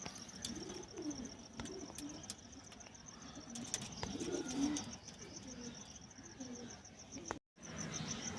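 Domestic pigeons kept by a pigeon fancier coo in low, soft repeated phrases, with faint chirps and insect-like ticking in the background of an outdoor setting; quiet and steady throughout, no speech.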